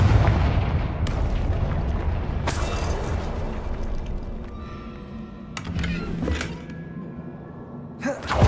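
Confringo blasting spells explode in the Hogwarts Legacy video game, several sharp booms landing at irregular intervals over a rumbling background, with the final one hitting close and loud.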